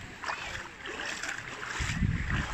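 Sea waves splash and wash at Sidari beach, a steady rushing surf close by with a heavier surge of water building near the end, with no talk over it.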